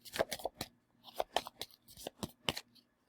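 A deck of oracle cards shuffled by hand, a quick series of crisp papery flicks and riffles in uneven bursts, close and fairly quiet with no talk.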